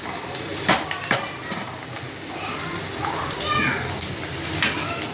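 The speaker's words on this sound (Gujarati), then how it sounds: "આમાં 2 ચમચી ઘી નાખ્યું છે, 1 ચમચી બટર નાખ્યું છે અને એમાં ડુંગળીને સાતળવાની છે બરાબર" Onions sautéing in ghee and butter sizzle steadily in a pan while a spoon stirs and scrapes, with children's voices and chatter in the background throughout.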